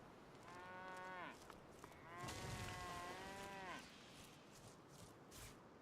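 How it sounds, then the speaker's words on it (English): A shock cow in the video game Divinity Original Sin 2 gives two long, drawn-out moos, one after the other, clear and fairly quiet over soft background ambience. "There's some fancy little animals like the shock cow over there"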